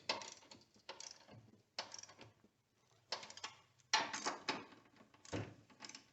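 A hand ratchet snugs the strut bolts on a 2002–2007 Toyota Highlander, giving bursts of quick clicking in several separate runs with short pauses between, close by and alone.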